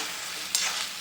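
Stuffed bitter gourd frying in a pan, a brief burst of steady close sizzling with a sharper crackle midway.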